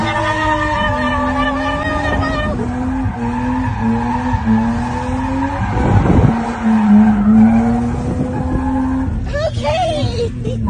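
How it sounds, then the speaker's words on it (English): A gusheshe BMW spins, its tires squealing and skidding in long, loud, wavering screeches over a revving engine, with crowd voices and shouts mixed in nearby. "a video resurfaced of him spinning his gusheshe BMW"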